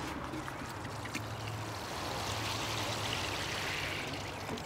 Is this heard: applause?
no